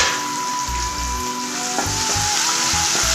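Sliced onion and dried red chillies sizzle steadily in a hot pan, a close and even frying hiss with a few soft knocks of stirring and no voices.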